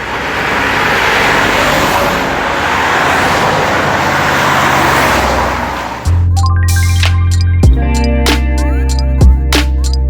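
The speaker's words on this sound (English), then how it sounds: "There's the road. We're waiting for cars." Cars on a roadside in Montenegro: a steady roar of passing traffic for about six seconds, then a closer, louder engine hum with a couple of brief knocks, no talking.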